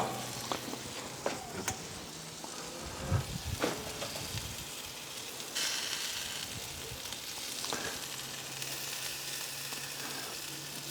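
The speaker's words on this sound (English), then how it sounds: "just put that on the grill, give it a good stir so the butter" Butter and harissa sizzling in a pan on a grill while being stirred for lamb koftas, a steady close crackling hiss with occasional knocks and scrapes of the utensil, no talking.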